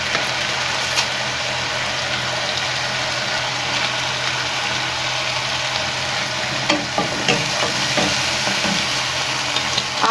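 Chole masala spice mix sizzles steadily in hot oil in a pan, a constant close frying hiss with a few soft scrapes and clinks of stirring toward the end.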